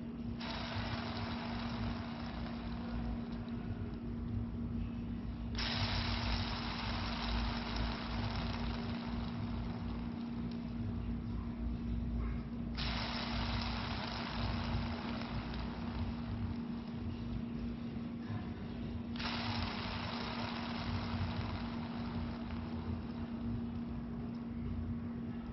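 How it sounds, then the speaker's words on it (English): Pulleys on a Titan cable tower spin freely after being lubricated, giving a steady whirring hum with a constant low tone and brighter bursts that swell and fade in three long cycles, with no talking. "Now we'll do another spin test here."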